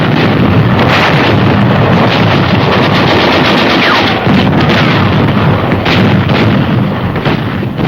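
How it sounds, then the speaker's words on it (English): Dense, continuous machine gun fire with bursts and possible artillery from World War I trench warfare on the Western Front, loud and rough throughout with wind-buffeted recording noise and no talk. "Here, the machine gun came into its own as a defense weapon of great firepower."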